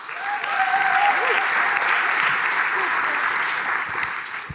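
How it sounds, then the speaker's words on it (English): Audience applause fills the room with steady, dense clapping that holds at full strength for several seconds, with faint voices mixed in. "Give him a warm applause."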